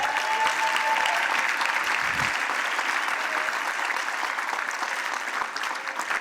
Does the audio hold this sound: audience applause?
yes